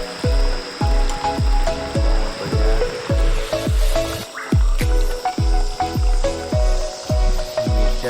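Onions and chillies fry in a pan on a village cooking fire, sizzling under a loud, regular knocking that repeats about twice a second throughout.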